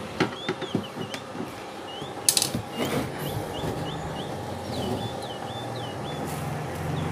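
A ratchet clicks in short bursts while removing the body bolts from the underside of a washing machine, close and fairly quiet. Steady background hum and a few sharper knocks come through between the clicks.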